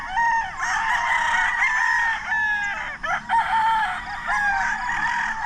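Roosters crow repeatedly and hens cluck across a crowded gamefowl farm on Mt. Antogop, with several birds calling close and loud and overlapping nearly without pause.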